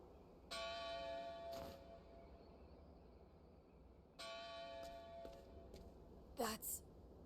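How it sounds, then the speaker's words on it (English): Bell of Dawn tolling in Octopath Traveler II: two separate resonant bell strikes ringing with long harmonic decay, the second followed by a brief sharper sound near the end, with no talk over them. "That's the Bell of Dawn."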